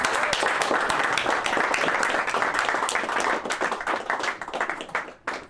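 Dense audience applause from a crowd at a political gathering, loud and sustained clapping that thins into scattered claps toward the end.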